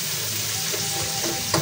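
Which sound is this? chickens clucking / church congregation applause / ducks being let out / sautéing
sautéing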